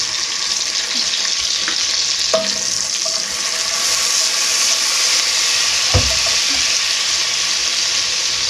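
Onions sizzling steadily in a soup pot as a roux is started for broccoli cheese soup, a constant close frying hiss with a couple of faint knocks and scrapes of a spoon against the pot.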